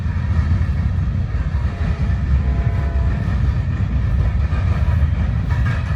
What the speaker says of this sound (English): I hear another train back behind me somewhere.